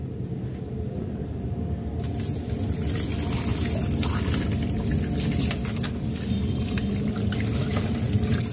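Water is poured over a freezer being defrosted, a continuous close splashing and trickling with scattered drips and spatters, steady in level throughout and with no voices.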